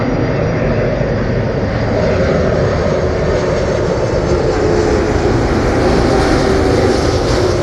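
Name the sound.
Virgin Atlantic Airbus A330 landing at Heathrow Airport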